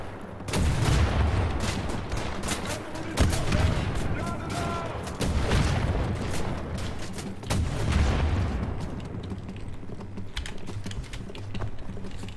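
Rocket blasts and gunfire in the shooter Wolfenstein: The New Order, a string of sharp booming hits and rapid shots, with loud bursts early and around the middle over a dense rumbling background.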